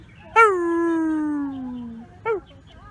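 A street dog lets out one long, loud howl that slowly falls in pitch, then gives a second short yelp after a pause, close by with a quiet background.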